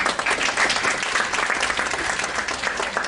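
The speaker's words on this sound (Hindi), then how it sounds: "So we need to give Rabia Nizami a very big round of applause." An audience claps and cheers for a speaker at a university campus talk event, a loud, dense wash of applause that holds steady throughout, close and full.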